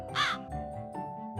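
A single crow caw rings out clearly, a short harsh call followed by fainter calls, set against a steady low hum.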